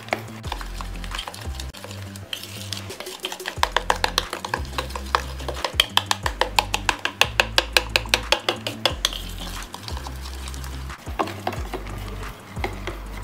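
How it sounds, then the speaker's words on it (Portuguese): Yeast mixture for carrot sandwich bread stirred in a bowl, a steady run of close scraping and clinking strokes from a utensil against the side, quickening in the middle and then easing, with no talking. "a gente já vai dar, ó, uma mexidinha aqui já pro fermento já ir reagindo"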